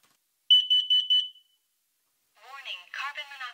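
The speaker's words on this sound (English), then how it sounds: "install a carbon monoxide detector in your home" A household carbon monoxide detector sounds a rapid series of about five sharp, high electronic beeps, followed after a pause by a synthetic voice warning.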